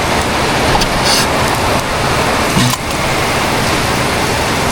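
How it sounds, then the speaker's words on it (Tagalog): Steady rain pours outdoors, a loud, dense, continuous hiss filling the whole stretch with no pauses, and no voices heard over it. "Ayan o, ulan."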